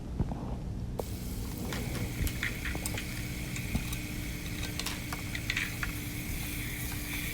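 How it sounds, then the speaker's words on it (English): Pot roast searing in a Ninja Foodi, a continuous moderate sizzle with small pops and crackles that holds steady after a brief quieter opening, with no one speaking. "You want to make sure you sear all sides of your roast"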